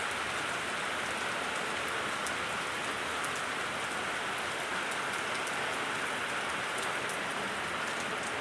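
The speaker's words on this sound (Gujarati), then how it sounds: "હાલ હાડા બાર વાગતાનો વરસાદ ચાલુ થઈ ગયો" Heavy rain falls in a Gujarati village courtyard, an even, dense patter of drops striking the ground and surfaces, steady and fairly close with no voices.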